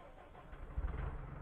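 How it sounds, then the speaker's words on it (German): A fire tanker truck engine starts in the firefighting simulator Emergency Call 112, with a faint, low rumble that swells briefly and then settles into a quiet idle. "Starte mal den Motor."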